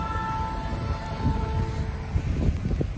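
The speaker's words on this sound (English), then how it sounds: "Skunk train's going by." The Skunk Train, a heritage railroad train, rumbles past outdoors, a steady low rolling drone with faint tonal hum and occasional clanks, moderately loud and unbroken throughout.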